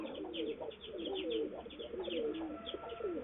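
A mated pair of pigeons, male and female, cooing repeatedly in soft rolling phrases close by, with faint chirps in the background.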